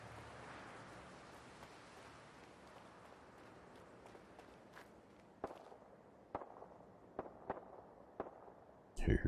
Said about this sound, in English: Hear shots.